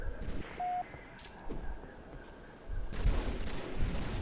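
Gunfire in a Halo 3 match breaks out in bursts, with a few sharp shots early and then a denser fusillade in the last second and a half, moderately loud alongside game sounds.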